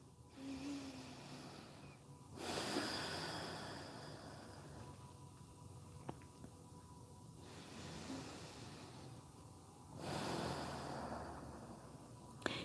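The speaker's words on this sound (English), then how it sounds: "Inhale and exhale through your nose." Slow nasal breaths during a yoga session, long soft airy inhales and exhales in alternating swells, close and fairly quiet with no talking.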